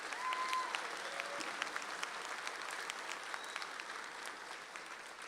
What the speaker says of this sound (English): Let's show them a round of applause and our thanks.